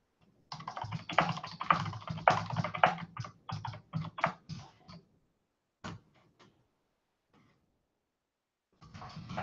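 Rapid, close computer keyboard typing in irregular bursts, followed by a few isolated keystrokes and a long quiet gap before another flurry starts.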